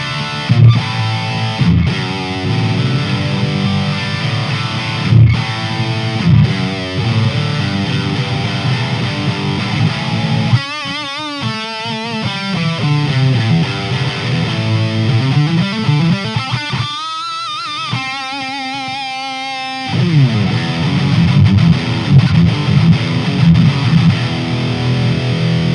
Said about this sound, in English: Now let's try a higher gain tone. So we put on one of the metal tones.